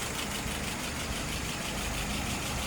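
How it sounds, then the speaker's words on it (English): An engine idles at about 660 RPM, a low steady drone with a faint even pulse, heard close and alone with no talk. "Currently idling at about 660 RPM, a little bit higher."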